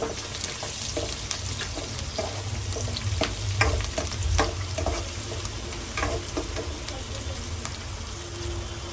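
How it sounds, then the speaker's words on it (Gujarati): Onions and chillies sautéing in a pan while tempering leftover rotis in buttermilk, a steady close sizzle with scattered stirring knocks and scrapes, no talking. "મરચાં ડુંગળી નાખીને આને પેલા સતડાવા દઈએ થોડી વાર"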